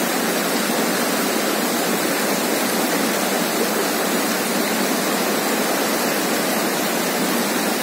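Mountain water rushing at Badrinath, a steady, loud, dense roar of fast-flowing river or falls that fills the whole stretch without pause or voices.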